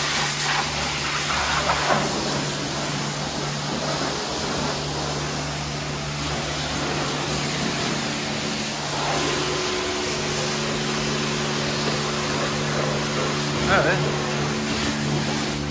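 A car wash foam brush with a trigger sprays steadily at a self-service wash bay, a continuous loud hiss with a machine hum beneath it while people talk over it.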